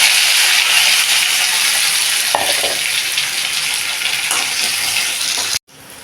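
Onion, dried red chillies, ginger, garlic and curry leaves sautéing in a pan for Coimbatore green gram kuzhambu, giving a steady, loud, close sizzle that cuts off abruptly near the end.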